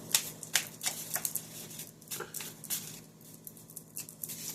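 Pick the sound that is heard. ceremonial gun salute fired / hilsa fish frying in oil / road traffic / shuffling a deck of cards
shuffling a deck of cards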